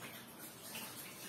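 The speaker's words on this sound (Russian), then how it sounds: "Ручки помыли." Hands are washed under a running kitchen tap while cooking, a steady, soft rush of water with no pauses or talk.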